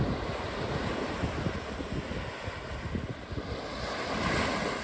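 Big sea waves by a fishing boat at sea, a continuous wash of surf and churning water mixed with wind noise, loud and close with no talk.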